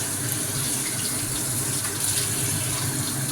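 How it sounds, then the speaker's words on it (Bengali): Tap water runs in a steady, close gush into a sink while fish are washed under it, with no talking. "তো মাছগুলো ধুয়ে নিয়ে নিচ্ছি।"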